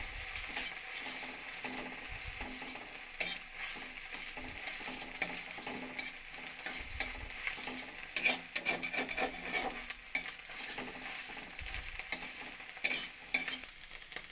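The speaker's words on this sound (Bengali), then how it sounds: "তেল গরম হয়ে গেছে, ডিমটা দিয়ে ভেজে নেব।" Egg frying in hot oil in a wok into a scrambled, crumbled texture for a dhaba-style egg tadka, a steady dense sizzle running throughout with occasional louder crackles and spatula scrapes, no talking.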